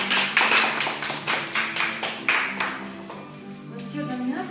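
Small group clapping for a child at a cat drawing contest in a hotel, a few seconds of moderate, fairly rhythmic claps with a voice briefly heard over them.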